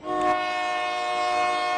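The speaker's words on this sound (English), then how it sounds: "around the bend you can hear the faint whistle of a train blowing" A sustained train whistle blows steadily for nearly two seconds near the Chicago & Alton Depot, its layered tones ringing out from a distance with a faint rumble underneath.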